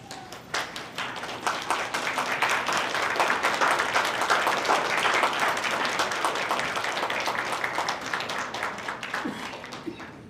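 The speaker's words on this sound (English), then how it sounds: "give a round of applause to your family members" Dense, sustained applause from a large crowd at a graduation ceremony, swelling quickly and holding steady for several seconds before gradually thinning out.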